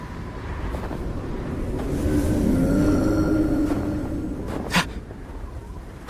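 Storm wind roars in an anime, a broad, steady rush that swells toward the middle and eases off, with a faint whistling tone and a sharp knock near the end.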